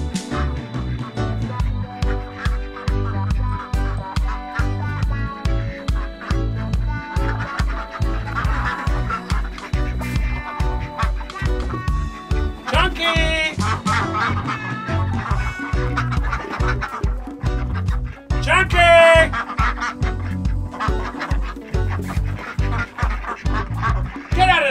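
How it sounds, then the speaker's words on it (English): Ducks quacking inside a farm duck house, with intermittent calls mixed into a dense, rhythmic background of other sound running steadily throughout. "Chunky went inside the duck house."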